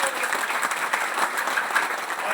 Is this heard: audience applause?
yes